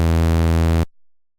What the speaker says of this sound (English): I want to add just a little bit more harmonics into the wavetable, making it just a little bit more imperfect.